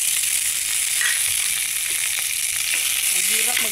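Onions, then tomatoes, sizzle loudly in a pan for a simple sardine and odong supper, giving a dense, steady frying hiss with faint stirring scrapes and no talk.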